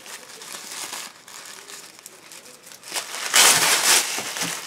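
A mail package's wrapping crinkles and is handled for a few seconds before being torn open with a louder, sharp ripping and crumpling burst near the end, close and alone.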